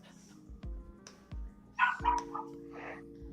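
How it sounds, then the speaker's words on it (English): A dog barks a few times nearby at a BattleBots event, short sharp woofs spaced irregularly over a faint background hum. "dog barking"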